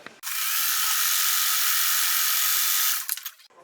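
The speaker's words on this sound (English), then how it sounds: "I'm going to go sew this and flip it over." A sewing machine stitches quilt fabric pieces for a crazy quilt block, its motor whirring steadily and close for about three seconds, starting and stopping abruptly.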